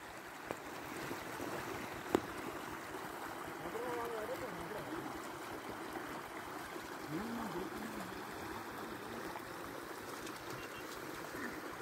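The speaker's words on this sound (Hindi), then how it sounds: "कल कल की आवाज आ रही है पानी की।" Water gurgles and flows steadily at a farm with a 12 hp diesel engine. The sound is faint and continuous, with murmuring voices somewhere in the background.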